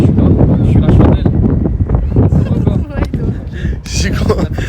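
Strong wind blows straight into the microphone outdoors, producing loud, continuous rumbling buffets and gusts that fill the clip, with voices partly buried underneath.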